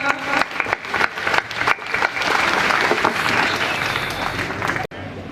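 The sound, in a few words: applause welcoming lecturers at a fresher's party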